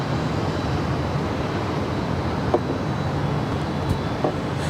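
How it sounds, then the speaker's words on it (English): An Alaska Airlines 15-year-old Airbus A320 departs LAX, a broad steady jet roar heard from a distance, constant in level with faint brief clicks. "This is Alaska Airlines Flight 503 departing to Seattle. It's a 15-year-old Airbus A320."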